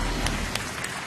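A studio audience applauds on the TV game show The Wall, a steady dense clapping that fills the whole short stretch with no voices over it.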